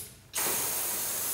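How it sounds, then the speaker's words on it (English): Vise jaws on a 2008 DoALL C916M horizontal band saw actuating: after a brief quiet moment, a sudden loud, sustained hiss with faint mechanical clatter, heard alone without talk. "And now let's try the jaws."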